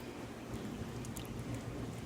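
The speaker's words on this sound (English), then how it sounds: "Then you pour the mixture in," Paper pulp mixture poured into water filling a bath for papermaking, a steady watery splashing and trickling that runs evenly throughout at moderate level, with no voices.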